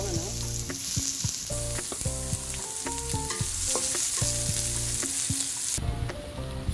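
Garlic sizzles in hot oil alongside ox tripe and beef skin in a pan for Batangas goto, a steady close frying hiss broken by repeated clinks and scrapes of a utensil stirring against the metal.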